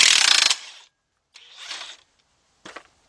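Ratchet working a bolt loose during a right axle shaft replacement on a 2007 Nissan Altima 2.5S: a loud burst of rapid clicking, then two shorter, fainter ratchet bursts separated by silence.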